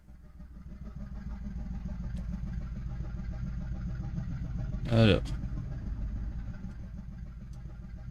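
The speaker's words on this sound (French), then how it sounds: "il y a un bruit, on dirait un bruit de moteur" Low, steady engine drone in the Pangea Survival video game, a continuous mid-pitched rumble running throughout with a brief louder burst near the middle, and a voice speaking briefly at the start.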